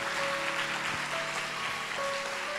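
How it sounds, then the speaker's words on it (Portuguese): Congregation applauding during a church service, a continuous wash of clapping with a steady sustained tone underneath, likely an organ or keyboard. "Pode aplaudir o Senhor Jesus"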